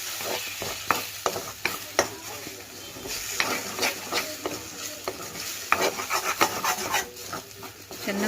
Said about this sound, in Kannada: 3 ಮೊಟ್ಟೆ ತೊಗೊಂಡು ಚೆನ್ನಾಗಿ ಉರಿಬೇಕು